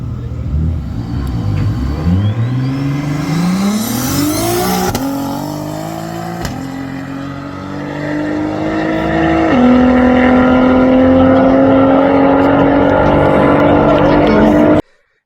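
A drag racing car launches from the start line at a drag race and accelerates hard, its engine note climbing through several gear changes into a loud, sustained roar that cuts off abruptly.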